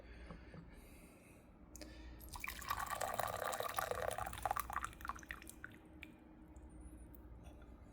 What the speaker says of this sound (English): Pour up that liquid